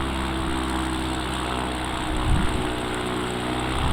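Light aircraft engine of an X Cub throttling back in flight over the Carmel Valley, a steady loud drone with a brief surge and dip near the middle.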